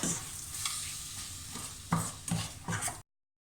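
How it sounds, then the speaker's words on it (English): Onions fry in a hot pan for butter chicken, a soft steady sizzle broken by several sharp stirring clatters near the end before abrupt silence, no talking. "let's give these a bit of a fry in the hot pan"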